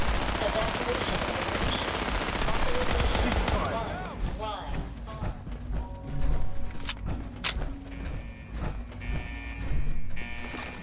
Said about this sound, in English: Everyone's blasting.